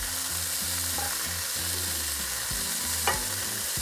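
Beef chunks brown in a pot for carne guisada, giving an even, dense sizzle throughout with a faint low hum and one brief sharp click near the end.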